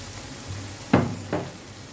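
Tomato paste hits a hot pan on a gas stove, giving two short sharp sizzling bursts over a low background hiss.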